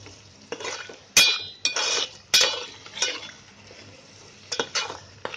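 Besan rassa masala of onion, coconut, garlic and coriander paste being fried in a pan, with close spoon-scraping, clinks and stirring strokes over a low sizzle, alone without talk.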